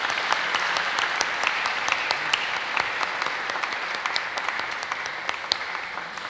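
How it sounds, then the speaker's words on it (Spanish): A congregation at a Spanish Mass claps steadily, a sustained patter of many hands with sharper individual claps popping out, moderately distant. "Un aplauso para ellos."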